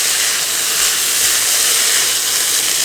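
Soaked, drained rice stirred into hot oil in a pan, a loud continuous sizzling hiss holding steady throughout, with no talking.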